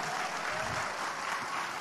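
Indoor audience applause for Anies Baswedan at an economic forum, a dense, even patter of many hands clapping at a fairly low, distant level with no pauses.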